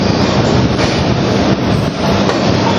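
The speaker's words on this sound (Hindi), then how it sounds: "और फाइनल डिपार्चर होता हुआ हमारी ट्रेन का यहाँ कोयम्बटूर जंक्शन से।" The Kerala Express, a long-distance Indian passenger train hauled by a WAP-4 electric locomotive, departs Coimbatore Junction with a loud, steady rumble of wheels and coaches rolling past close by.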